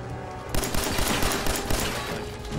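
Rapid gunfire in Fallout 4, a dense fusillade of overlapping shots and bursts that starts abruptly and keeps going loud and close.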